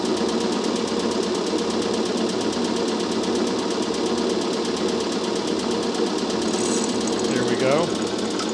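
A Sellers 6G drill grinder grinds a cutter lightly touching the wheel with coolant off, making a continuous, loud, harsh rattling roar that holds steady throughout.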